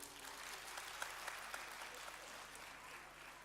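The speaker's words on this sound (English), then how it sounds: "A round of applause for everyone." Faint, distant applause from an audience after a school fashion show, a steady wash of clapping running through the whole stretch with a few sharper claps standing out.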